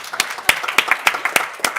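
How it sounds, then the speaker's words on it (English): A small audience at a school board of education regular business meeting claps for a newly introduced student representative, giving a brisk, uneven patter of close claps with a few sharper strikes standing out. "Let's give her a round of applause"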